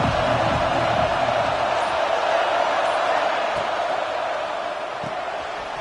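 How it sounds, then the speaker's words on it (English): A packed football stadium crowd roars steadily at Penn State vs Michigan, a loud, dense wall of cheering that holds throughout and eases slightly toward the end. "This crowd ready to make its presence known."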